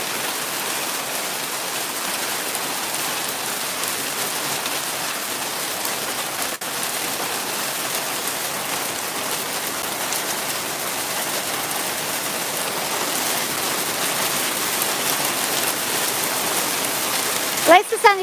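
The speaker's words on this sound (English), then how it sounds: "At least it's only little hail." Steady broadband patter of small hail falling during a big storm outdoors, a continuous loud hiss of pellets striking surfaces for the whole stretch, with a brief sharp knock near the end.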